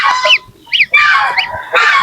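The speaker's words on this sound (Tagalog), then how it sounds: "Ano? Gansa." A goose gives several loud, harsh honks close by, in quick bursts separated by brief pauses, with no talk.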